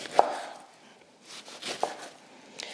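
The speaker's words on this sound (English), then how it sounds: "I'm cutting the top and bottom part off of the orange." A knife slicing the top and bottom off a pithy orange on a cutting board: two distinct, close chopping thuds about a second and a half apart, with a faint third tap at the end, in a quiet kitchen.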